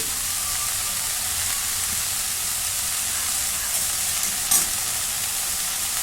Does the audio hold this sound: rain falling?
no